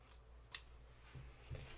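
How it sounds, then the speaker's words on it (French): Scissors trimming the seam allowance on sewn fabric pieces for a dress make one quiet, crisp snip in an otherwise hushed room, followed by faint soft handling noises. "la prochaine étape, ça va être de couper la valeur de couture sur tous nos morceaux"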